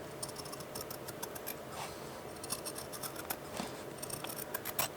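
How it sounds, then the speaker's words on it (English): Scissors cut carefully along the edge of a hand-painted paper booklet flap. Faint, close snips and light crisp ticks repeat over a quiet background, with no voices. "So just carefully cut along the edge of the flap"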